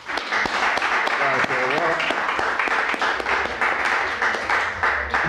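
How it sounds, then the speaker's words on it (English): An audience at a 1998 poetry reading in Bayview breaks into loud, sustained applause for a young poet, a steady wash of many hands clapping for about five seconds. "Let's give Brother Walter Jordan III a great round of applause."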